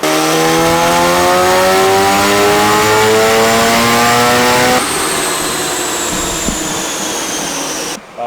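A turbocharged Honda B18C engine revs hard on a dyno, its loud, steady high-pitched drone holding near for about five seconds before dropping to a lower rumble and briefly cutting out near the end.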